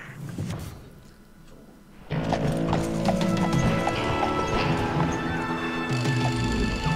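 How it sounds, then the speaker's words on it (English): Horse hooves clip-clopping in the Western shooter Call of Juarez: Gunslinger, a loud, fast, rhythmic run of hoofbeats with a whinny, starting after a quieter opening and continuing steadily to the end. "There's a beautifully rendered horse."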